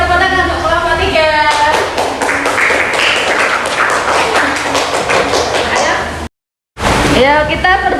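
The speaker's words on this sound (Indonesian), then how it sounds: "Kita kasih tepuk tangan untuk kelompok 3." A classroom group bursts into loud, dense clapping for a student team at an Islamic studies lesson on zakat, with voices mixed in, then a short cut of silence and a brief return of applause.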